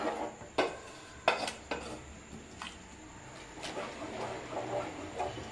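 Scraping and stirring of a coconut and jaggery laddu mixture in a pan, with faint clinks and a few sharp metallic knocks over a soft background, no talking.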